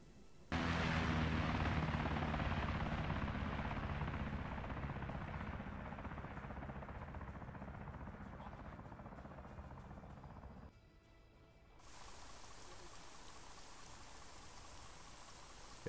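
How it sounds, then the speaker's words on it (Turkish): Osprey tiltrotor aircraft in the ARMA 3 video game, a loud, dense rotor-and-engine roar that holds steady, slowly fades, drops out briefly, then returns as a quieter steady hum. "Marinlerden helikopter, plane olarak mı geçiyor acaba? Osprey, evet."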